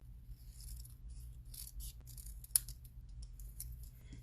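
Scissors snip through craft paper for an Easter treat box, a few short close cuts with one sharp snap, quiet room, no talking.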